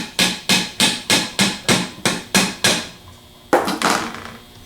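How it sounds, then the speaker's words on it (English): A Phillips screwdriver is hammered straight down into screws on a Denso internal fan to loosen them, giving nine evenly spaced sharp metallic knocks, then a pause and one more louder strike with a brief ringing tail. "a Phillips screwdriver and tap it straight down in to loosen them up."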